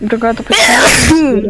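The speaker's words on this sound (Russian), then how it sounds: "Будь здоров. Спасибо." A person sneezes loudly and close by in the middle of a Roblox horror game session, with people talking just before and after.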